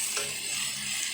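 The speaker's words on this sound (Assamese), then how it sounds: "এনেকৈ ভাজি লৈছোঁ ধুনীয়াকৈ।" Drumstick pieces frying with mustard seeds in a pan, giving a soft, continuous sizzle with faint crackle throughout, fairly close and unbroken by any talk.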